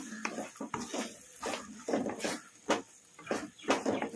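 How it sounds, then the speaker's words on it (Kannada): Masala is stirred and fried in a pan on high flame for a hotel-style plain sherva, with irregular scraping and clattering of a spoon against the pan over a soft sizzle, close and fairly quiet. "ಹೈ ಫ್ಲೇಮಲ್ಲಿ ಇಟ್ಕೊಂಡು 1-2 ನಿಮಿಷ ಚೆನ್ನಾಗಿ ಈ ಥರ ಕಲಿಸ್ಕೊಂತ ಫ್ರೈ ಮಾಡ್ಕೊಂಡ್ಬಿಡೋಣ"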